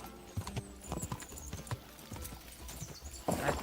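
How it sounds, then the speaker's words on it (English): Horse hooves trot in Kingdom Come: Deliverance 2, a quick uneven clip-clop of hoofbeats on the ground, fairly close, with a brief snort or whinny near the end. "go a bit more than a trot"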